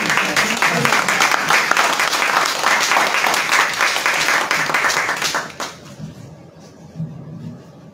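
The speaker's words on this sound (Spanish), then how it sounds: "Un aplauso para el poema de Dora." An audience applauds a poem at a Spanish-language literature reading; dense, steady clapping fills the room for about five seconds, then abruptly thins and fades to a few scattered claps and quiet murmurs.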